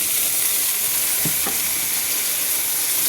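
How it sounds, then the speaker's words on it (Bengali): Ginger and green chillies fry in a pan with a splash of water, a loud steady sizzle with a couple of brief stirring scrapes, up close and without voices. "একটু জল দিয়ে কষাই,"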